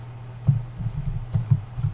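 Soft clicking keystrokes on a computer keyboard, a handful of light uneven taps close by in a quiet room with no voices.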